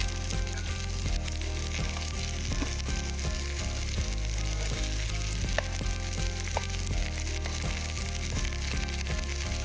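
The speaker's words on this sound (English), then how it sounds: "Now I'm gonna go ahead and just place those cauliflower steaks directly in the pan." Cauliflower steaks sear in hot olive oil in a pan, giving a steady, close sizzle with crackling pops and the occasional scrape of stirring or shifting throughout.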